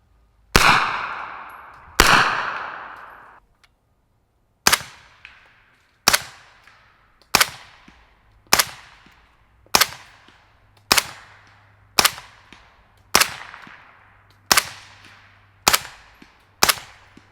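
A Sylvan Arms ZF5 fires unsuppressed at an outdoor range: two loud, sharp reports a moment apart, then a long steady series of about a dozen more shots at regular intervals, each ringing out briefly.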